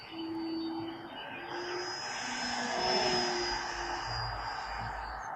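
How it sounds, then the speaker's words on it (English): A steady, buzzing three-bladed propeller drone from an E-Flite Clipped Wing Cub electric RC airplane, holding a fairly even pitch and swelling slightly as it passes, with no voices. "I think this 3-bladed prop then on this RCI plane does give it a bit more pleasing sound"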